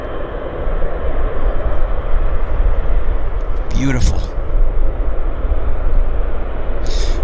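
Steady loud roar of airliner jet engines at Vancouver International Airport fills the clip, with a brief spoken word partway through.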